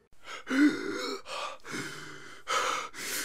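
Heavy, ragged panting close up after descending stairs: several loud breaths in quick succession, each a rough gasp with a brief pause between, and no talking.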